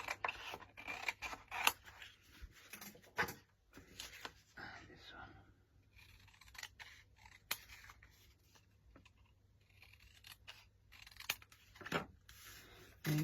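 Scissors snip out a paper card toadstool shape in short, close, irregular cuts spread through the clip, with soft crinkling of the card between them.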